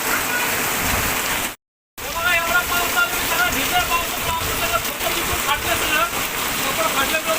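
Heavy rain pours steadily in a dense, hissing roar, briefly cut by a moment of silence, with faint voices underneath.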